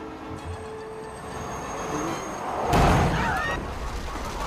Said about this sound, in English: is it realistic that Mr. Incredible can stop the train in the amount of distance that he has?